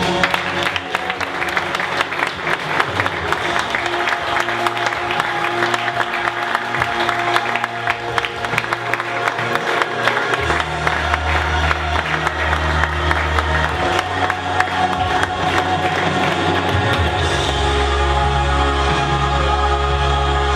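A club audience applauds and cheers throughout, steady dense clapping with some whoops, loud and sustained with low music or rumble in the background.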